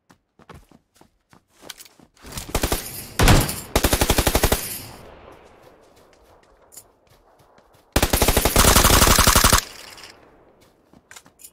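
Automatic gunfire in the battle royale game PUBG Lite, two long rapid bursts of loud, close shots separated by a quieter stretch with scattered single shots and footsteps.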